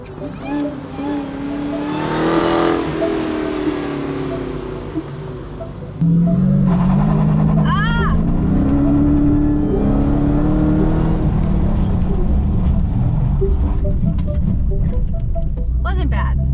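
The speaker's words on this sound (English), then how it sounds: "The goal is to trigger full ABS, so just get to the brake pedal as hard as you can." A car on a driving track accelerating hard, then braking fully to trigger ABS: loud, close engine roar rising, then a steady heavy rumble with whirring and tire noise throughout.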